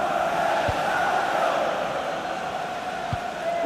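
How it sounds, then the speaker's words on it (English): A stadium crowd in the EA Sports FC Mobile football game roars steadily, a broad continuous wash of cheering and noise late in a match, with no break across the few seconds. "just listen to this crowd"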